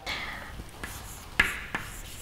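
Chalk or marker scratches across a classroom board in short strokes with small taps between them, close and fairly quiet, with no talking.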